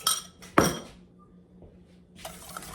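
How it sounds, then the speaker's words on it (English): A wire whisk clinks against a bowl while beating batter: a few quick metallic taps up close, a quiet pause, then the clinking starts again. "to continue whisking that in until it is all done"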